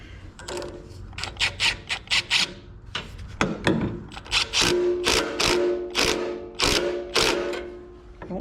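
A ratchet wrench tightens a hose clamp on a Mahindra 5530 tractor, giving a close run of rhythmic clicking strokes that speed up and slow down, with no talking.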